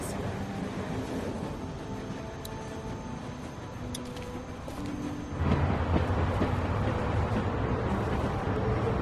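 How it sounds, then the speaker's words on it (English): A train rumbles steadily in The Walking Dead video game, a continuous low mechanical drone that grows louder and rougher partway through, with no talking. "We need to stop this train."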